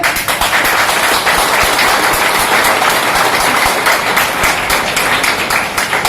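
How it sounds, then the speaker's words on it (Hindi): A seminar audience in a cinema hall applauds during a live business-plan presentation: dense, steady clapping that fills the whole stretch at a loud, even level with no break. "ताली होनी चाहिए"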